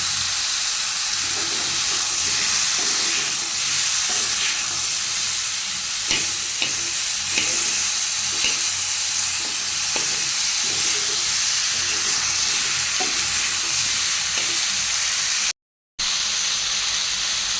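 Eggplant and tomato fry and get stirred in a pan with a steady sizzle and hiss, broken by repeated scraping and stirring knocks. A short dropout occurs near the end.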